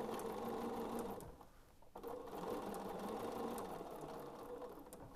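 A sewing machine stitches a doll with a steady close whirring hum, dipping briefly into a short pause before running on continuously at a moderate level.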